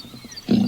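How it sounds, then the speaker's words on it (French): A tiger roars in a cave, a short, loud, low rumbling burst rising suddenly after a quiet moment. "Le rugissement du tigre emplit la caverne de son tonnerre."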